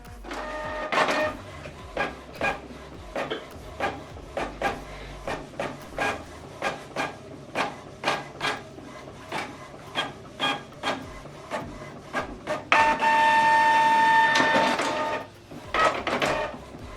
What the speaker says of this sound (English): So this document now we're going to print it on both sides.